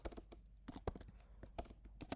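Quiet close-up typing on a computer keyboard, about a dozen crisp clicks in an uneven rhythm with short gaps between bursts.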